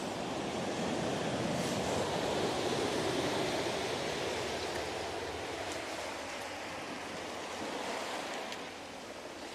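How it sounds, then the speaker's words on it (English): Surf washes in and drags back over the stony shore at Ebey's Landing, a continuous hissing rush with faint rattling of small pebbles as the water retreats. "the sound of it pulling the little pebbles out"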